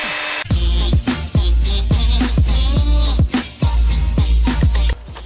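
A power polisher works Meguiar's headlight restoration polish into a car headlight on an FN2, giving a loud, steady motor drone broken by quick, evenly spaced rhythmic pulses, close up with no talking.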